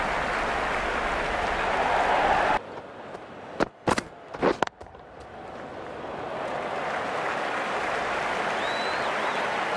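Crowd applause in the video game Cricket 19 during an India vs Australia Test match, a broad steady roar of clapping that cuts out briefly around a few sharp clicks, then swells back and continues.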